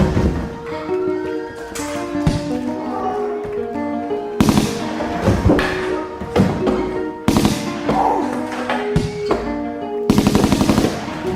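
Rapid gunfire effects crack out in bursts over the beat of a French rap track, loud sharp volleys cutting through the music at several points.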